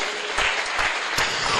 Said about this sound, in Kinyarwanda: tumukomera amashyi cyane.